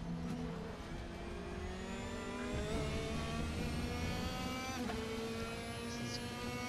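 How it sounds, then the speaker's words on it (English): A race car engine in the RaceRoom racing game drones continuously, its pitch rising and dipping as the throttle is blipped and the gears change, with no talk. "Just have to blip the throttle and hopefully I don't spin out."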